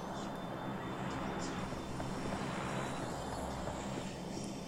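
A plane passes overhead during a game session, a steady broad engine drone holding at even loudness throughout, with faint mumbled voices under it.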